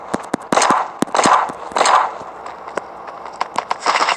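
An AK rifle fires in a battle royale video game, giving sharp, spaced cracks and short bursts at moderate loudness, with intermittent louder impacts.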